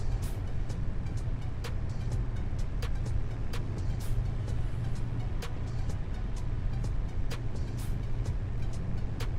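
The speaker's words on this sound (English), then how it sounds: "Super Duty sounds like a diesel though." Engine of a Ford Super Duty truck in Farming Simulator 25, a steady low rumble holding throughout with sharp clicks scattered on top, alone with no talking.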